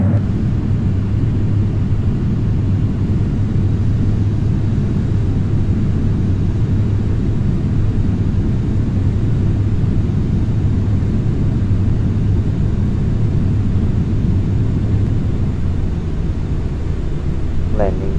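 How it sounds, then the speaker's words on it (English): Airliner in Flight Simulator X rolling for takeoff from Snohomish County Airport in Everett, Washington, as a loud, constant low engine roar and rumble that holds steady throughout, with no talking. "Right now I'm taking off from Snohomish County Airport in Everett, Washington."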